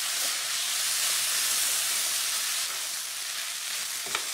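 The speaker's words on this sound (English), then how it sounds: "Now just give it a good stir around." Vegetable biryani with natural yoghurt being stirred in a hot pan, a steady loud sizzle and hiss of frying with a faint scrape of the spoon near the end.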